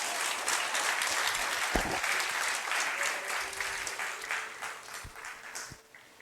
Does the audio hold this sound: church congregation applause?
yes